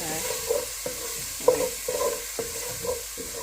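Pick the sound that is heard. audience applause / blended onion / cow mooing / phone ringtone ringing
blended onion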